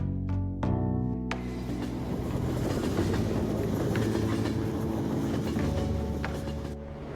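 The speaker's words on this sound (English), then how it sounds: "The train stopped." A commuter train in the Persona 5 video game rumbles and clatters along the rails, with a sharp mechanical clunk near the start, then steady, close, loud track noise that fades slightly at the end.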